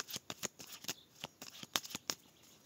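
A deck of cards is shuffled and cut by hand for an astrology card reading, giving a close, crisp run of quick riffling and slapping bursts over a few seconds with no talking.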